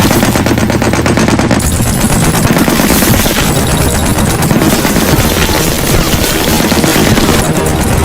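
Sustained machine gun fire in a war film battle scene, dense rapid bursts running continuously and loudly throughout with gunfire layered over a busy combat backdrop.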